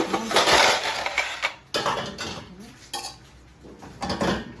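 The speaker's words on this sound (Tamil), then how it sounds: "பிளேட்ஸ்லாம் இப்படி அரேஞ்ச் பண்ணிக்கலாம்." Ceramic plates clink and clatter against each other and a Midea dishwasher rack in several separate bursts, close up, with no talking.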